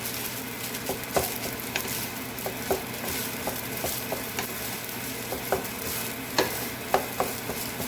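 Spam-and-ham fried rice being stirred and mixed in a frying pan gives a steady, soft sizzle, with scattered light scrapes and clicks from the utensil throughout and no talking.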